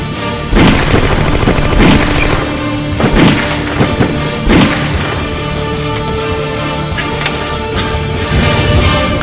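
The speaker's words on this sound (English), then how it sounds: "Why did you two shoot Max?" Repeated gunshots in a tense shootout scene, several sharp loud bangs spread irregularly across the stretch over a constant heavy background rumble, with no talking.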